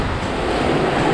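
Ocean waves at high tide on a beach in Natal, Brazil, with water reaching the rocks, make a steady, loud broadband wash of surf that rolls on without a break.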